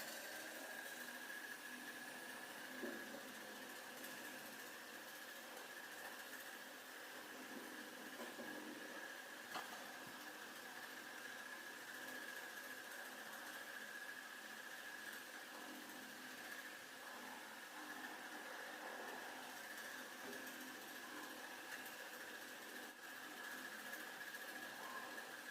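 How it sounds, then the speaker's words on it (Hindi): An electric fan runs indoors with a constant whirring drone and a thin, high mechanical whine, steady and unbroken with no voices. "यहाँ पे ये मेरा पंखा बहुत तेज़ आवाज़ कर रहा है"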